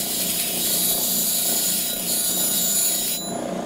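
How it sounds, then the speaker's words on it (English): Grinder with a custom 80-grit CBN wheel stripping the teeth off a 157-inch band saw blade, a continuous harsh, hissing grind that stays steady and loud for a few seconds before easing slightly at the end. "I'm going to go over to the grinder and I'm going to remove all of the teeth"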